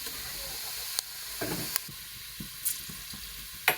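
Whole spices (peppercorns, cloves, cinnamon, cardamom, bay leaf, star anise and fennel) hit hot oil for mutton biryani, giving soft sizzling under a quiet hiss, with a few sharp clinks and stirring knocks.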